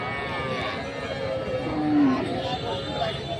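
Cattle moo at a rural livestock market in Dinajpur, Bangladesh, where local-breed dairy cows and calves are sold; one clear moo rises near the middle over a steady crowd murmur.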